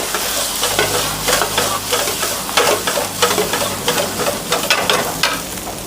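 Mutton fries in a pan with a paste for a Kolhapuri-style mutton fry, giving a loud, continuous crackling sizzle broken by regular scraping stir strokes, close up with no talking.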